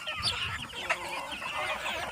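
Free-range village chickens cluck close by in a busy, overlapping chorus of short calls with no talking.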